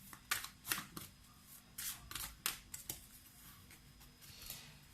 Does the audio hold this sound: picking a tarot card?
yes